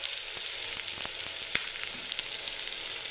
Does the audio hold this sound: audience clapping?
no